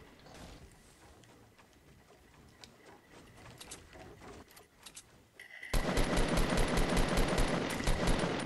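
Gunfire in the video game Fortnite, scattered distant shots at first, then a sudden loud, rapid burst of automatic fire that continues to the end.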